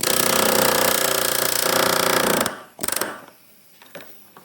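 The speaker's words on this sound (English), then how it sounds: "So now he's getting the chisel right on that right there." Loud continuous power-tool rattling, consistent with a chisel hammering against a rusted fuel pump ring on a 2004-2016 Chevy truck or SUV. It stops abruptly and is followed by a few short metallic knocks and quiet handling.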